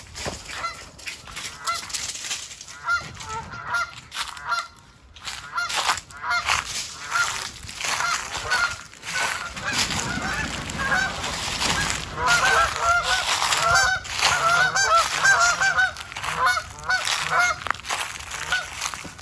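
A flock of farm geese honks loudly and continuously while a dog named Stella chases them, with dense overlapping calls that build in intensity toward the end.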